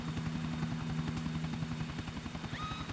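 A helicopter flies in Grand Theft Auto, its rotor chopping in a steady, fast rhythm over a constant engine drone. It is loud and close, with no talk.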